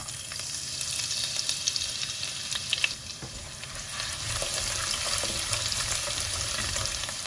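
Garlic added to hot oil with fenugreek seeds frying in a pan for Goan pomfret fish curry, a continuous close crackling sizzle with small pops, steady throughout with no talk.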